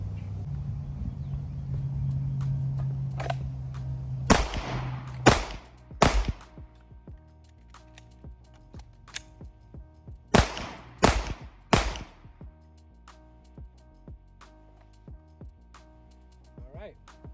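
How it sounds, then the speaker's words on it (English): Live handgun fire at an armed security shooting qualification: three sharp close reports, a pause for a tactical reload, then three more shots, loud against a steady background hum. "the shooter will fire 3 rounds, center mass, perform a tactical reload, and fire 3 rounds, center mass"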